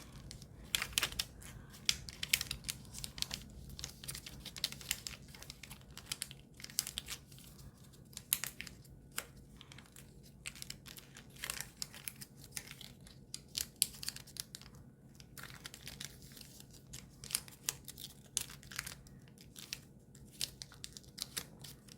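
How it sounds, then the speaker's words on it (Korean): Paper being folded and creased for an origami ninja spinning top, with quiet crinkling, rustling and sharp flicks of paper in irregular bursts, close and soft. "다음 또 뒤집어가지고 가운데에 맞춰서 접어줍니다."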